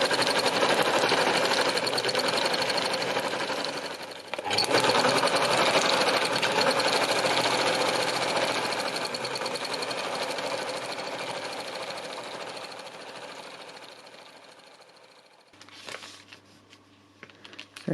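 A sewing machine does free-motion stitching on paper, its rapid mechanical hum running close and steady, pausing briefly, then resuming and slowly fading before stopping near the end.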